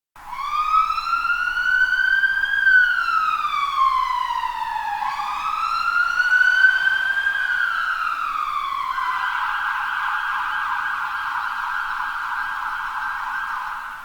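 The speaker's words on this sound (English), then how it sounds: "So the sound you're hearing here is the sound of a police siren you'd hear in the UK." A UK police car siren sounds in a reference recording, a loud close wail sweeping up and down twice before switching to a steady high tone, heard alone.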